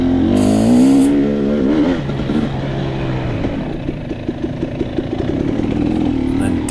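A 2022 KTM 300 XC-W dirt bike revs hard during a woods hare scramble race, its engine note loud and close as the pitch sweeps up and down, then settling into a choppy, uneven drone.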